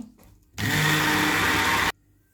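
Electric blender whirring through a bottle gourd sherbet with turmeric, honey and coconut oil, a loud, steady motor whine that starts abruptly, runs about a second and a half, then cuts off sharply, close up and alone.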